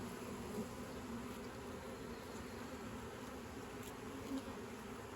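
Honey bees buzz steadily around an open hive, a dense, continuous swarm drone that stays at an even, moderate level without pauses.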